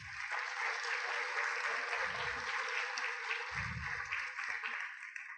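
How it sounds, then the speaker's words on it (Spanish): An auditorium crowd at an academic event claps steadily and evenly, with a few dull low thuds mixed in beneath the applause. "Un aplauso, por favor, a todos ellos."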